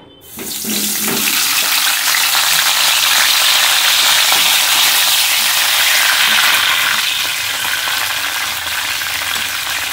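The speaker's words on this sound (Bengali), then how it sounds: "এখানে সাদা তেল দিয়ে দিয়েছি, এগুলো হালকা করে ভেজে নেব" Cauliflower pieces fry in white oil in a pan, giving a loud, steady hiss and sizzle that rises sharply at the start and holds close up throughout, with no talking.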